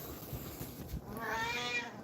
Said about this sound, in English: Sorry, my cat's going nuts.